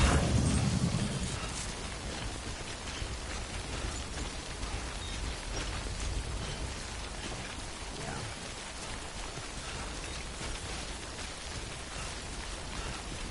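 Rain pours steadily in the video game Death Stranding, a dense, continuous hiss of drops on surfaces with a low rumble at the start, heard alone.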